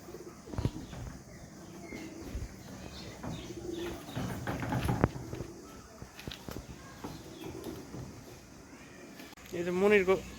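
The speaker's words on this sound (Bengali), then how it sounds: "ওই যে কবুতরটা" Pigeons coo and flutter at a busy pigeon market, soft throaty calls under nearly constant talk from several people, with a louder warbling coo near the end.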